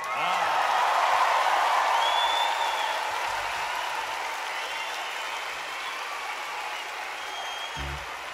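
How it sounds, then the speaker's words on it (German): A concert crowd in Mannheim applauding and cheering, a loud wash of clapping and whoops that slowly fades, with a voice briefly audible near the end. "ihr müsst jetzt klatschen"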